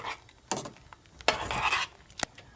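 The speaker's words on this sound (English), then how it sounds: "Now you're gonna mix all of it together." A spoon scrapes and knocks around a pot, stirring garlic powder, salt and black pepper into stewed beef, with a few sharp clinks and soft scraping strokes, quiet and close.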